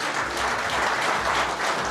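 An audience at an award ceremony breaks into dense, steady applause, many hands clapping at once and filling the short stretch with no voices above it.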